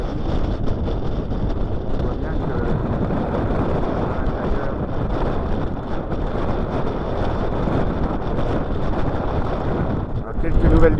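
Strong north wind gusting at 42 to 45 knots across a sailboat mooring on the Norwegian coast, a steady loud roar of wind buffeting the microphone, with the sea surging into the anchorage and a heavier gust at the end.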